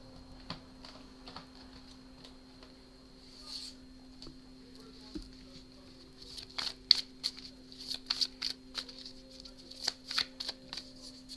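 A Moonology oracle card deck is shuffled in quick, crisp riffles that grow busier toward the end, close and fairly quiet, with a steady hum underneath.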